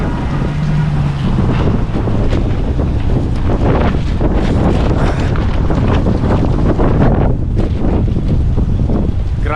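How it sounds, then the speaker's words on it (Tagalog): Strong wind roars steadily across the microphone outdoors in Edmonton, Alberta, Canada, a loud, continuous buffeting rush with no pauses. "Grabe, lakas ng hangin."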